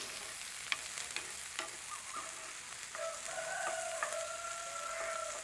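Mutton pieces frying in oil until golden, a steady broad sizzle with scattered pops and stirring clicks, with a rooster crowing faintly in the background partway through.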